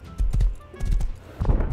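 Horse hooves clip-clop on the ground in the video game Rust, a few close, distinct hoof strikes in uneven clusters, with faint background game noise between them.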